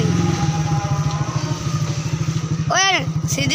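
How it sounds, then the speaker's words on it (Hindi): A motorcycle engine running while riding on a road, a close, steady rhythmic thrum with quick pulsing firing beats, briefly joined by a rising whistle or horn-like tone near the end; a voice speaks over it. "सीधी जरा मोटरसाइकिल चलाओ"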